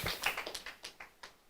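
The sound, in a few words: round of applause for Sydney Hood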